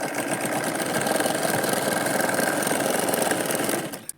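A sewing machine stitches a katori blouse in one steady, continuous mechanical whir at close range, then stops abruptly just before the end, with no talking.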